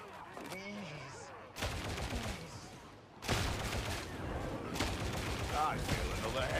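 Dense automatic gunfire rattles in rapid, sustained bursts during a combat scene in Warhammer 40,000: Darktide, loud and continuous after a quieter opening with faint voices.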